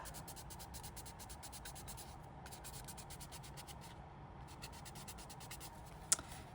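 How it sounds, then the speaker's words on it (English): Glued paper petals for a Valentine's Day craft are rubbed between the fingers, making a steady, faint, rhythmic rubbing hiss close by, with a single small click near the end. "And just give it a rub."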